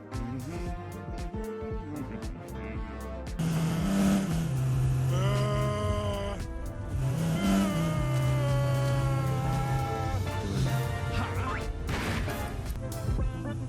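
A car in a homemade horror video game accelerates with an engine that sounds like layered orchestral tones, sustained pitched notes sliding and swelling over the whole stretch, growing louder partway through.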